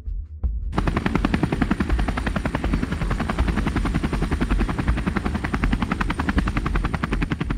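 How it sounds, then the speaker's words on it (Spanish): A helicopter drones close and loud, its rotor chopping in a rapid, steady rhythm that builds suddenly after a brief quiet start and holds with no talk. "Un helicóptero se acercó a la zona para evacuar a los heridos"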